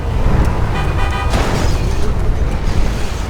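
Car rammed by another car in a city gangwar video game, a loud dense crunch of impact over rumbling engine noise, with brief horn-like tones and a sharp burst partway through.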